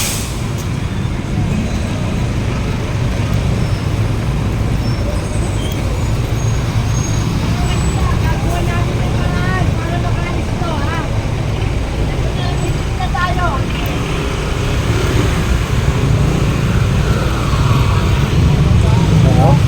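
Heavy road traffic dominated by large trucks, a dense continuous rumble of engines and tires in a long line of vehicles, with a voice speaking over it.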